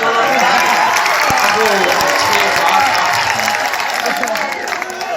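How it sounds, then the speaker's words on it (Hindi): An audience at a mushaira poetry gathering applauds in a dense, sustained burst of clapping and crowd noise, loud and close, thinning slightly toward the end. "एक बार तालियां बजाओ"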